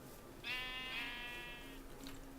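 A single sheep bleats in a sandbox building video game, one clear, wavering bleat that lasts over a second, followed by a softer second call against quiet ambient background.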